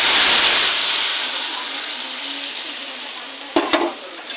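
Ginger, tomato and green chilli paste hitting hot oil with nigella seeds, a loud sizzling hiss that slowly fades, then a couple of sharp clattering knocks from a utensil near the end.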